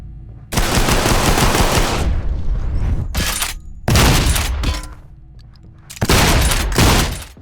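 Rapid automatic gunfire in a video game as a painting is shot, three loud, sustained bursts separated by short pauses, with no speech.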